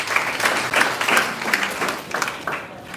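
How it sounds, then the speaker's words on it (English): A school audience claps in a scattered, uneven burst of applause that rises and falls over about three seconds, fairly close, with faint voices mixed in. "They clap for you."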